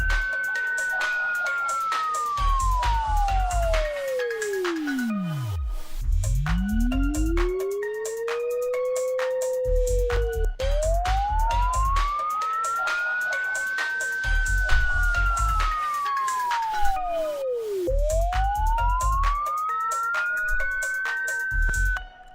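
Synthesized police siren built from synth layers, with a square-wave top layer, slow rising and falling wails sweeping over a pulsing low beat, loud and steady throughout.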